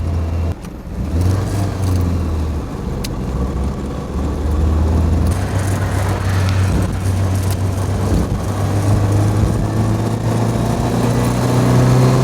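Triumph Spitfire engine pulling steadily while driving, a mid-pitched drone that climbs and holds as the revs rise, close and continuous inside the car.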